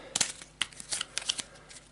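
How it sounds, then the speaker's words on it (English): A deck of cards is quickly shuffled and then cut for a tabletop board game, giving a burst of crisp riffling snaps and a few sharp flicks, close and clear with no talking. "Quick shuffle and then a cut."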